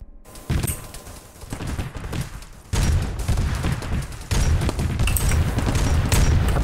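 Dense gunfire in the military shooter game Arma 3, a steady wash of overlapping shots and thudding booms that thickens in bursts, loud and continuous with no talk.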